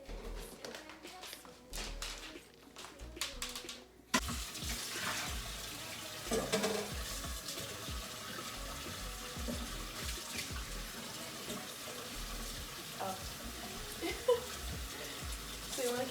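Water runs steadily from a kitchen sink tap at close range, a continuous hiss with clinks and clatter of dishes, while voices talk faintly under it.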